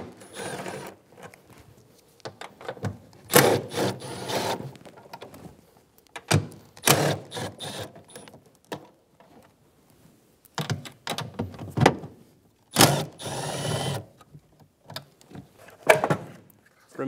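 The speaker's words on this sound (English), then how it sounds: "Then using an 8 millimeter socket," Nuts come off a 2013-2017 Honda Accord tail light with an 8 mm socket, giving several short bursts of ratcheting clicks and metallic rattling, close by, separated by quiet gaps.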